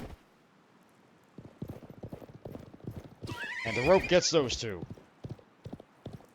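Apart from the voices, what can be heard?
horses galloping and neighing in video game Live A Live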